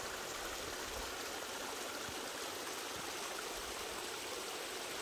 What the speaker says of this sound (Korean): 아이고, 물소리 봐라.